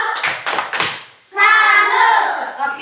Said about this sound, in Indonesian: Oke, kita beri tepuk jempol untuk kita semua.